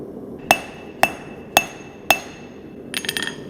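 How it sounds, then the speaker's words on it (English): A blacksmith's cross-peen hammer draws out hot steel on an anvil: four loud, ringing strikes at an even pace about half a second apart, then a quick flurry of lighter metallic clinks. "use the cross peen to aggressively draw your piece of steel out"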